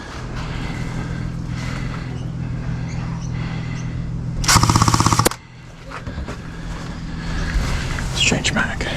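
An APS AK-74U gel blaster with real wood furniture fires a short full-auto burst of rapid, even clicks, loud and close, standing out over steady background noise.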